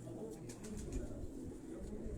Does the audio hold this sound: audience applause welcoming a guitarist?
no